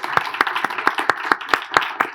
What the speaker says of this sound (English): everybody now have an opportunity to applaud them.